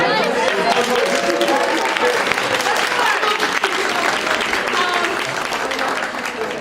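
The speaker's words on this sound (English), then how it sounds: "another big round of applause for our" Crowd at an anime convention wig contest giving a big round of applause, a full, sustained clatter of clapping with cheers mixed in and a few voices calling out through it.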